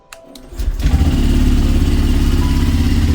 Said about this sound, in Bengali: বাইকটাকে একটু কোল্ড স্টার্ট দিয়ে নিতে হবে